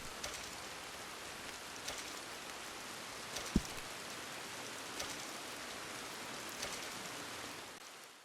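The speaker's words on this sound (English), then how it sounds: "Now I'm not a big fan for doing these videos in the rain" Steady rain in the Red Dead Online video game, a continuous soft hiss of drops falling on surfaces with a few faint crackles, heard alone with no voices.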